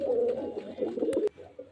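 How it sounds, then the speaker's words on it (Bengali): A steel-coloured male pigeon coos in a low, throaty, rolling call for more than a second, close by, with a couple of sharp clicks near the end. "দেখতে পাচ্ছেন নর পায়রা স্টিল কালারের।"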